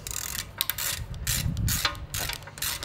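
A ratchet wrench snugs bolts while fitting a 3-link rear suspension kit, giving close, loud bursts of quick ratcheting clicks separated by short pauses.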